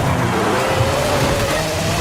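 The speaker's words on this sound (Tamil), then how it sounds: "வா மரண பிரேக் ஒன்று போட்டேன்" A car in a Forza Horizon racing game brakes hard and skids, with a steady sustained tire-and-engine roar holding at constant loudness across the whole stretch.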